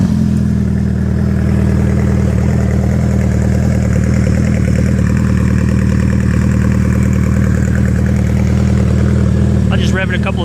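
Custom-built 2008 Suzuki Busa motorcycle engine idling close by, a loud, steady low rumble throughout with a brief sharper rattle just before the end.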